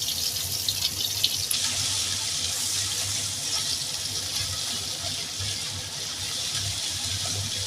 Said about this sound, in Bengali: তেলটা গরম হয়ে গেছে, এখন আমি পেঁয়াজটা দিয়ে দেবো।